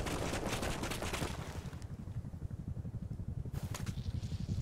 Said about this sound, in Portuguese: o helicóptero tá atirando